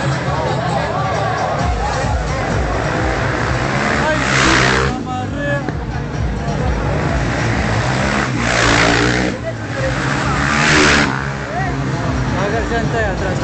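Street motorcycle racing with engines roaring past in loud bursts, the revving rising and fading as bikes pass close by, while a chattering crowd of spectators talks continuously throughout.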